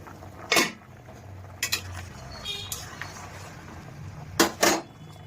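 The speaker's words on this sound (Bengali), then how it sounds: "ঢাকা দিয়ে দিচ্ছি।" A metal lid is set onto a cooking pot after hot water goes in, giving a few sharp clanks and clinks spaced apart, close and fairly quiet between them.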